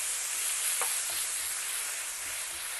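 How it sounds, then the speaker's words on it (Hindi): Chicken stir-fries over a medium flame for egg fried rice, a loud, continuous sizzle with faint scraping from the stirring. "और इसी तरह से हम चिकन को जो है मिक्स करते हैं।"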